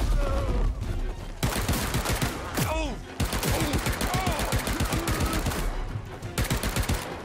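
Rapid bursts of gunfire in the prison-escape game Paint the Town Red, a dense volley of loud shots crackling over a busy, chaotic mix with a voice talking partway through.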